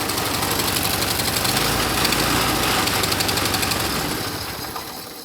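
A small garden engine, freshly cold-started, idles far too fast, a loud continuous buzzing drone with steady rapid firing pulses that eases slightly in level near the end.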